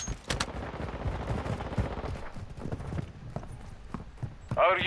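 Gunfire in Modern Warfare II, with rapid bursts of shots and sharp cracks close by over a noisy combat backdrop, and a brief voice near the end.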